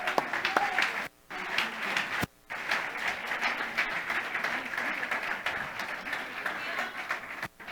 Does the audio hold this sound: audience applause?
yes